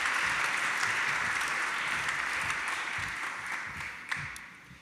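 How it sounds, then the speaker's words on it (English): At a Folk Americana Roots Hall of Fame press conference, a small audience claps in a soft, steady patter that gradually thins out over a few seconds. "And give him a round of applause."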